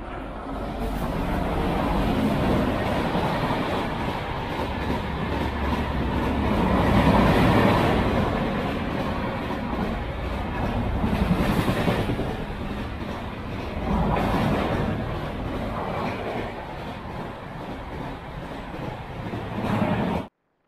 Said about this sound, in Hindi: ट्रेन आ रहा है, ट्रेन